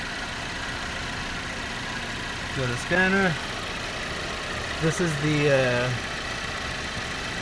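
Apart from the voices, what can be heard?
car engine idling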